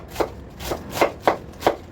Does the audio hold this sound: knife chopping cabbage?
yes